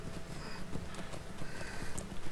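A hobbit's pony trots in Lord of the Rings Online, its hooves beating out a quick, even clip-clop under a constant wash of in-game music and ambience, modest in level throughout.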